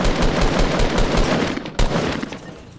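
Rapid gunfire from a shotgun in the video game Fortnite, a loud dense burst of overlapping shots that thins toward the end, with one sharp extra blast partway through.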